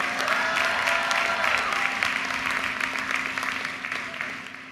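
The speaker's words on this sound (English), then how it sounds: "Give him a round of applause." Crowd at a University of Maryland commencement ceremony claps steadily in a large reverberant space, the applause sustained and moderately loud before gradually tapering off, with a faint tone humming underneath.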